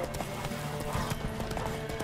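Horse hooves galloping in The Witcher 3: Wild Hunt during a race, a steady rapid clip-clop running through a dense, busy game mix with faint voices.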